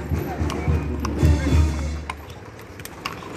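Horse hooves clip-clopping at a Mexican cavalcade in Pénjamo, Guanajuato, a few irregular thuds near the start amid crowd noise and shouting voices in the background.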